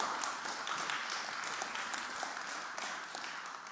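Steady audience applause fills a hall at an open-data hackathon, honoring the jury members, a sustained even crowd clapping at moderate volume with no break.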